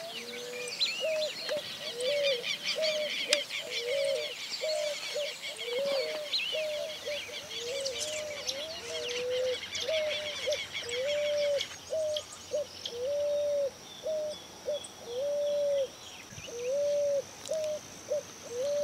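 A picazuro pigeon coos in a steady series of soft, repeated low phrases, close and clear, with other birds chirping faintly in the background throughout.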